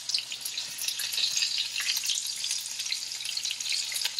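Veal cutlets frying in oil in a pan on a gas stove, a dense continuous sizzle with crackling spits, close and fairly loud, no voices.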